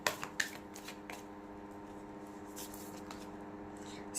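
Tarot cards are shuffled close by: a few quick riffling flicks and snaps at the start, then softer sliding card rustles over a faint steady background hum.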